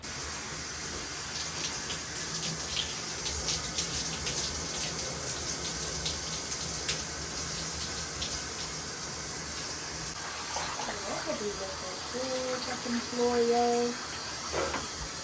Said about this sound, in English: Now that I just finished rinsing out the exfoliating mask, it was easy to rinse out.